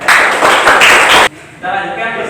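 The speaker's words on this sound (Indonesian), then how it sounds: "Kita beri tepuk tangan untuk kelompok 2." Classroom applause for a student group after their presentation, a burst of dense clapping for about a second that cuts off abruptly, followed by quieter room sound.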